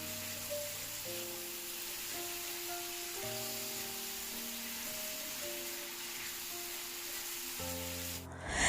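Coriander, cumin and paprika powder stirred and fried in a pan in a Bangladeshi home kitchen, giving a steady soft sizzling hiss beneath background music.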